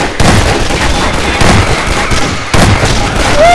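Repeated gunfire from a game of Garry's Mod Zombie Survival, loud and close, with bursts of shots running through the clip and a fresh volley near the end.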